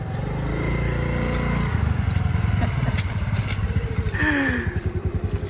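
A Honda Navi mini motorcycle being ridden hard, its small engine buzzing and revving in rapid pulsing bursts close by, with a brief chirp near the end.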